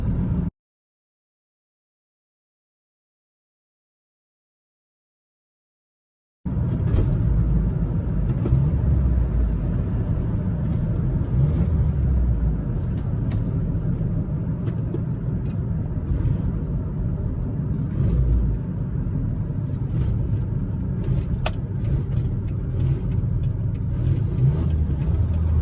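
A Ford Ranger with an engine that cuts in and out while driving: a few seconds of silence, then a loud, close, steady engine and road rumble through the rest.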